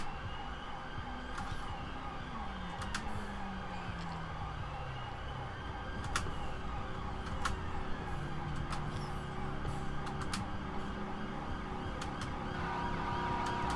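Ambulance siren in the video game GTA 5, with a London Fire Brigade rescue EMS mod, wailing steadily at a moderate distance over a constant traffic and engine hum for the whole stretch.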